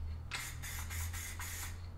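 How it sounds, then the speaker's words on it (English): A Hyperdip aerosol spray can gives a short test spray: several quick, close hissing bursts in a row over a low steady background hum. "Do a test spray."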